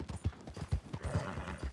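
Horse hooves clip-clopping in the video game Red Dead Redemption 2, a steady rapid rhythm of muffled thuds at a walking-to-trotting pace, fairly close and continuous throughout with no voices.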